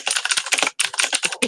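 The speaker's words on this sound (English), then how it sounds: "Angry typing intensifies." Fast, aggressive typing on a computer keyboard, a dense close-up clatter of keystrokes with one brief pause midway.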